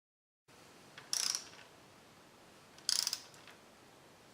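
Two short ratcheting clicks from a torque wrench snugging valve cover bolts on a 2001 Ford Focus DOHC engine, each a quick close burst of rapid clicks against quiet workshop hiss.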